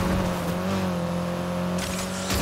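A racing car engine in the video game Need for Speed: Heat drones and revs with a steady tonal whine, loud and continuous, rising briefly near the end.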